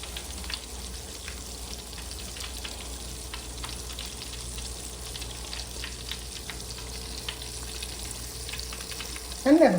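Chicken wings frying in hot grease for sweet and spicy honey fried wings: a steady, continuous sizzle with scattered pops and crackles throughout, ending in a brief louder clatter.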